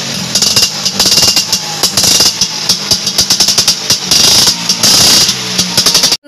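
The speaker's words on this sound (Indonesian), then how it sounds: "ada motor Vespa teman-teman" A small toy Vespa scooter motor buzzes and rattles in loud, choppy bursts, cutting out abruptly at the end.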